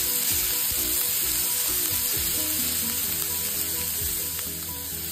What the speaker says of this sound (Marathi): पॅनमध्ये तेल गरम करून घेतले होते आणि बारीक चिरलेला कांदा घातला आहे मी अर्धी वाटी